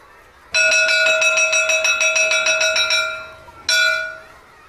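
A school bell rings loudly in a long continuous electric peal for about three seconds, stops briefly, then gives a second shorter ring that fades out.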